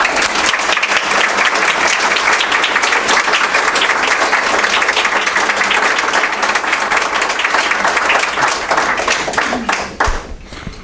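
A lecture audience applauds warmly to welcome a speaker at a Fabergé lecture, dense sustained clapping filling the room loudly and evenly for about ten seconds before quickly tapering off.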